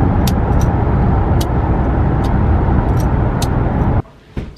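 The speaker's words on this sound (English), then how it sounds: "Traffic na siya ng konti." Continuous road roar from inside a car driving home through light traffic, a steady broadband rumble with faint ticks, dropping suddenly near the end to a quieter hush.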